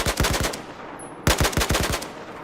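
Automatic AK-12 rifle fire in Battlefield 4, two sharp bursts of rapid shots separated by a brief pause, loud and close.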